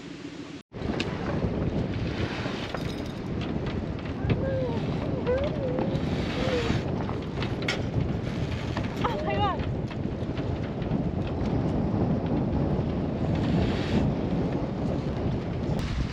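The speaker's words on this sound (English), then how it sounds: "We're just sailing out of the King George now." A sailboat heads out to sea, with a constant loud roar of wind buffeting the microphone and rushing water beneath faint voices.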